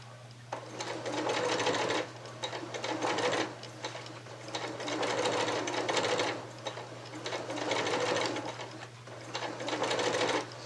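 A sewing machine stitches a gentle curved seam in a quilt block in several short runs of steady rattling stitching, separated by brief pauses as the fabric is adjusted, over a constant low hum.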